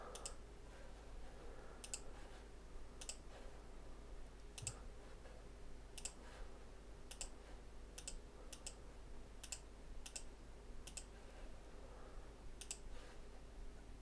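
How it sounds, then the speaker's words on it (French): A Wi-Fi password is typed on a computer keyboard as a sparse series of quiet, sharp key clicks spaced irregularly over a low, steady background hum. "j'ai plus qu'à taper mon mot de passe"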